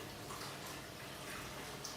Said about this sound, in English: This is boiling water